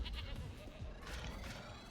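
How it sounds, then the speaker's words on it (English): A goat bleats in the Tokyo Jungle video game, repeated short cries over a busy game soundscape with dense low rumbling, fairly loud and close. "what's wandering around up there? A goat."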